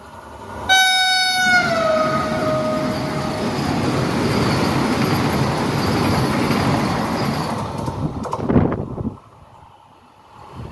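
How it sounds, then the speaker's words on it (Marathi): A train horn sounds briefly, then a superfast Vande Bharat express roars past for several seconds with a loud rushing rumble before abruptly fading away. "वंदे भारत येते दाखवतो तुम्हाला आली आली सुपर फास्ट"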